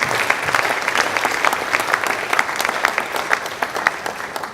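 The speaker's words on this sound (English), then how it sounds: "please give him a huge round of applause" An audience at a press conference applauds warmly, a steady dense clapping that holds at an even level for several seconds without any talk.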